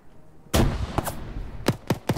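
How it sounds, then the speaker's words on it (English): A car blows up in the video game Arma 3, a loud sudden blast with a rumbling tail, followed by several sharp gunshot-like cracks spaced over the next couple of seconds. "One of the cars exploded."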